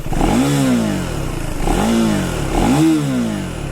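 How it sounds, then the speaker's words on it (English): A 2024 KTM 390 Duke motorcycle engine revs three times in a row, each rev rising and falling in pitch, fairly loud and close, with no talking. "as I'm revving the engine, you guys can hear that it is not a very loud bike."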